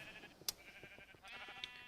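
Sheep bleat in the Minecraft video game, a couple of short wavering bleats with small clicks and a faint tonal background, fairly quiet and without talking.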